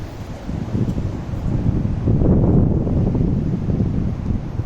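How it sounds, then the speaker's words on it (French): Steady low roar of a headwind buffeting the microphone on a golf course in Marmande, rising and growing louder midway, with no voices. "il y a bien le vent de face"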